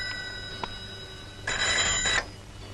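A telephone bell rings once in a loud, bright burst lasting under a second, standing out clearly over a quiet room with a low steady hum beneath it.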